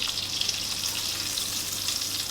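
A pork schnitzel fries in a pan over medium heat, giving a steady, close, bright sizzle throughout with no talk.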